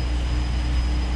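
Helicopters on a ship's flight deck give a loud, steady rotor and turbine roar with a constant high whine, continuous and close with no talk over it.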